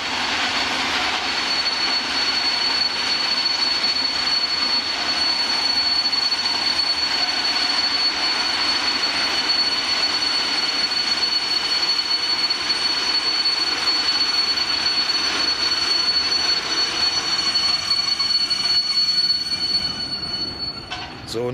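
A V100 diesel locomotive passes hauling empty railway wagons on a construction line, loud and close with a steady rolling roar and a sustained high metallic wheel squeal that fades toward the end.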